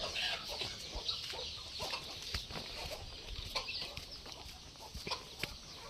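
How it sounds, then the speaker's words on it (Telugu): Hatched chickens cluck continuously on a poultry farm with many birds. The sound is faint and distant, and scattered clucks overlap. "ఇక్కడ చూసుకోవచ్చు, పొదిగేసిన కోళ్ళన్నీ ఇక్కడనే ఉంటాయి."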